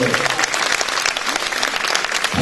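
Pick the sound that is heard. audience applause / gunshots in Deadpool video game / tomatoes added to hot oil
audience applause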